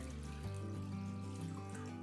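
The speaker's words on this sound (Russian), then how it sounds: "Наливаем в глубокую миску 2 литра обычной холодной воды" Two liters of plain cold water pour into a deep bowl to make a brine for pork, a steady faint splashing stream running throughout with no talking.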